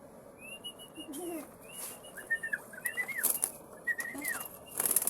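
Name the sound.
pigeons flying, wings flapping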